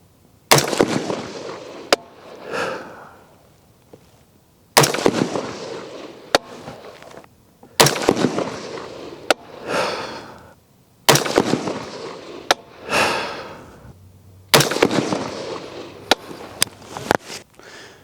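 Rifle gunshots fired outdoors while confirming an optic's zero, about seven sharp, loud reports spaced a few seconds apart, each followed by a rolling echo, with faint clicks in between.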